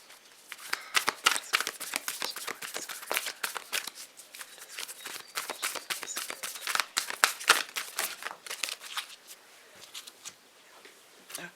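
Tarot cards snap and riffle in a steady run of crisp, close shuffling clicks, dense at first and then thinning into scattered flicks as cards are drawn, with no talking over them.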